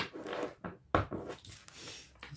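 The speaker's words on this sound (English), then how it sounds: "I'm going to shuffle now." Tarot cards are shuffled in a few quick, close riffling and sliding bursts with short pauses between them, soft papery rustles and light taps, with no voices.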